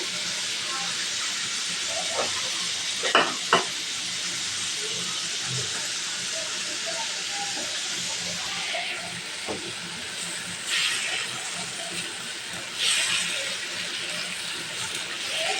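Green chillies are frying in a pan and give off a continuous soft hiss and sizzle, broken by a few brief clattering knocks from the pan.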